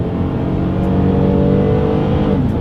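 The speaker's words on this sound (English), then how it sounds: "let's see how quickly we can get our new 2022 Highlander here up to speed" A 2022 Toyota Highlander accelerates up to speed, its engine droning loud and close in a steady rising tone with no talk over it.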